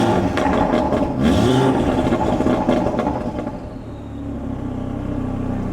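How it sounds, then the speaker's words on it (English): A hybrid-turbo Audi RS3 engine revs hard with a sustained throaty roar for about three seconds, then drops back to a lower steady rumble near the microphone. "give it a few revs so you can hear it pop, pop, pop"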